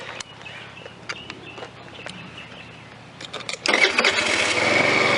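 A scooter engine on a home build is cranked with sharp intermittent clicks and turns, then catches and settles into a loud, steady running roar for the last second and a half; no one speaks.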